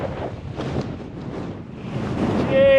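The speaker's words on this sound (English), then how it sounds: "Look at that wind." Strong mountain wind buffets the microphone on an exposed Snowdonia summit ridge in winter, a loud continuous broadband roar that swells and gusts, growing heavier toward the end.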